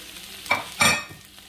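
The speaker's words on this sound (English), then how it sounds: "Saute that in here." Tomato sautéing in a pan on low heat, with a soft steady sizzle beneath two brief stirring scrapes of a spoon, close and moderately loud.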